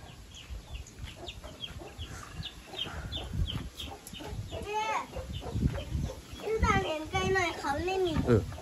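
Chickens clucking in a coop, repeated short clucks and a few louder squawking calls, close by, with people talking over them throughout.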